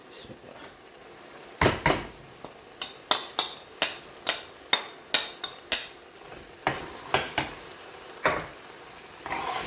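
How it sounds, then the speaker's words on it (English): Garlic chilli chicken is stirred in a pan, a metal utensil clinking against it in a steady run of about a dozen sharp knocks over a low background sizzle, with no talking. "Give this a little stir."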